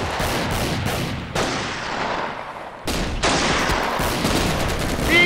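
Gunfire in a Company of Heroes Stalingrad 42 mod battle: loud, rapid bursts of rifle and machine-gun fire crackle and echo with heavy impacts, two sharp sudden onsets, and a dense, continuous barrage throughout.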